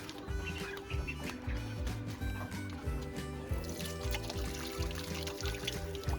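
Water runs from a tap as hands are washed at a poultry coop, a low, quiet pouring trickle with bird calls and clucking mixed in behind it.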